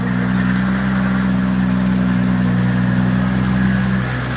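A high-horsepower car engine runs close and loud, holding a steady low idle-like drone with a strong hum for several seconds before easing off slightly at the end.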